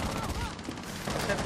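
Rapid gunfire bursts in Rainbow Six Siege ranked play, short cracks in quick succession over game noise, with faint voice chatter mixed in.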